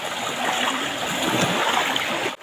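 A stream near Aruyan Falls in Sablayan, Occidental Mindoro rushes steadily and loudly close by, a continuous broadband wash of flowing water with faint splashing and no clear talk.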